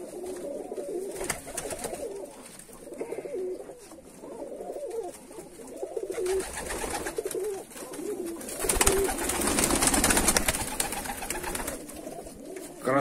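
Fighting pigeons coo repeatedly in a loft, a close series of low, throaty bubbling calls in uneven bursts, with louder rustling and wing flutter toward the end; no talk over them.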